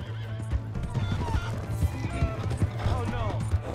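Horse neighing and whinnying with clip-clopping hooves in the video game Red Dead Redemption 2, set in the town of Valentine; the hoof beats run steadily throughout with a near whinny, alongside faint game ambience.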